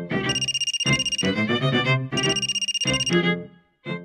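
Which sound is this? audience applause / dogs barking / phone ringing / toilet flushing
phone ringing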